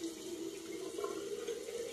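Tap water runs steadily into a sink while a face is wetted for cleansing, a close, even stream with a faint tonal hum, heard alone.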